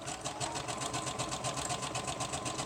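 Sewing machine running steadily on a zigzag stitch, attaching wide lace to a page made from packing paper, with a fast, even rhythmic chatter throughout at close range.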